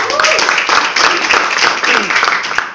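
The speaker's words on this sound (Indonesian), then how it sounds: "Tolong semua kasih tepukan yang meriah kasih dia." An indoor audience at a company meeting applauds an MC with dense, lively clapping, while a voice carries over the top.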